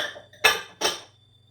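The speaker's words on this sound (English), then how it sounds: "And you just stir everything." Smoothie bread batter with strawberries is stirred in a bowl, and the spoon strikes the rim twice in quick succession, two bright, close clinks over a quiet background.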